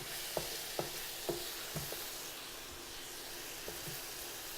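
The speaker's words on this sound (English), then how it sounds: "get the lemon, 2 lemons, and just put them face side down into this pan" Two lemon halves pressed face down in a hot pan for braised chicken thighs, a faint continuous sizzle and hiss broken by a few soft knocks and taps near the start, with no talk.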